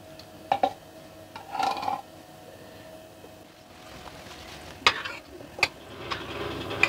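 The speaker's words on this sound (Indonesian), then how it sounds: "Campur dengan santannya" A spoon stirs vegetable stew with coconut milk in a pot, giving soft scraping and clinking strokes with a few sharper knocks against the pot over a faint, quiet background.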